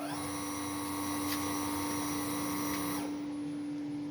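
An MR-1 magnetic drill running on its automatic tapping cycle into a steel plate gives a steady close mechanical whine with a strong motor hum, then the pitch shifts and thins near the end.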